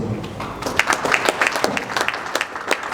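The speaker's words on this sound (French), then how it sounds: "Nous continuons à applaudir pour l'intervenant." A small audience at a book launch claps for a speaker, the sparse individual claps distinct and near.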